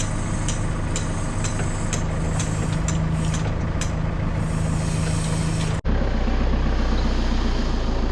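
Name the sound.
forklift engine driving on a lawn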